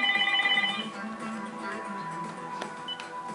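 A home telephone rings with short electronic trills at the start, fairly faint under a murmuring background, and a softer tone returns near the end.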